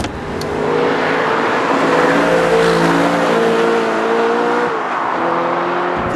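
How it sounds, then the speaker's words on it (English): Audi R8 mid-engine sports car engine revving loud and close, a sustained strained howl with rising and falling pitch, then a brief dip and recovery near the end. "It revs like a complete nutcase, but it has great mechanical refinement and it sounds fantastic."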